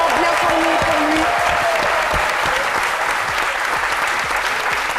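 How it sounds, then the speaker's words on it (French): Audience applause fills a French-language TV studio as a guest actor and producer is announced, dense steady clapping throughout, loud and close. "applaudissements bien fournis pour lui"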